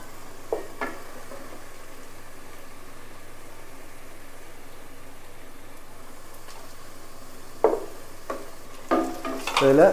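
Onions fry quietly in a pan for a biryani, a faint steady hiss with a few sharp stirring scrapes near the start and a louder cluster of scrapes and clatter at the end.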